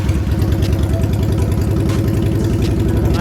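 A Honda Steed 400 motorcycle engine runs loud and close, a steady throbbing rumble with a slight rise in revs and no pauses.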